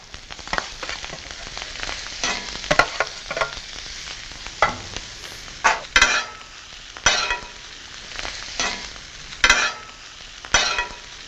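Chicken and rice sizzle on a hot tawa while two spatulas stir and scrape in repeated sharp, clattering strokes over a continuous frying hiss, close and fairly loud.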